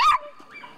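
A dog gives a single sharp bark up close at a Sunday ciclovía street outing, loud and brief, followed by a fainter whine trailing off.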